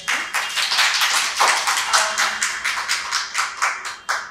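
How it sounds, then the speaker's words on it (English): Applause from a small audience at a panel talk on disability, a few people clapping in a quick uneven rhythm that is close and fairly loud, then tapers off. "May I have a round of applause for that?"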